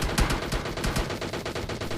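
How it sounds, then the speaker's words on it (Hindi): Rapid bursts of gunfire from a mobile shooter video game fill the scene near a stadium, with loud, dense repeated shots in quick succession and no talking. "तो यहाँ स्टेडियम में कुछ गोलाबारी होती है।"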